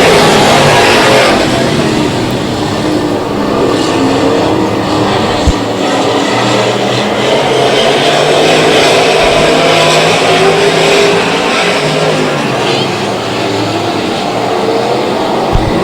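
Street stock race cars roaring past the flag stand on a racetrack at the start of a race, a loud, dense wall of engine noise that holds steady throughout.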